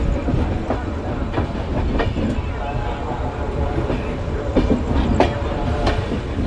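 Rail carriages rumble steadily while a train pulls into Ambala Cantt station, with faint clicks and clanks over a constant loud low roar; scattered voices murmur under the noise.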